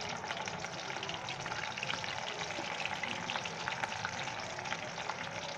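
Corn kernels fry in oil, a dense, even bubbling sizzle running continuously up close with no talk over it.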